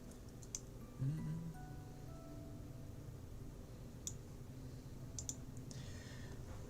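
Scattered clicks of a computer keyboard during a livestream, a few light, sparse keystrokes over a quiet background hum, faint and irregular rather than steady typing.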